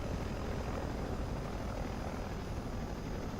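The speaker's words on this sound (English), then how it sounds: "there goes the Chinook" A Chinook helicopter flies past in Microsoft Flight Simulator 2024, a dense, steady rotor and engine roar that stays loud and constant throughout, with no talk over it.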